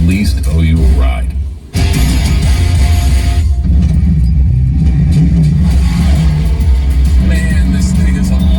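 A car engine revs hard under acceleration, a loud steady roar filling the cabin with a brief dip partway through, and speech can be heard over it.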